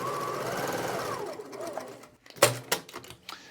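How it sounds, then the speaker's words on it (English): A sewing machine stitches quilt columns together and runs in one steady whirring burst. It stops, and a few clicks and clunks follow as the machine is handled. The machine is close and clear, and no one speaks. "I'll begin sewing now this column 3 on top of column 2, just like before, all the way down to the bottom until we cut thread."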